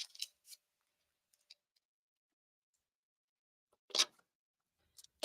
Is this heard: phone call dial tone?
no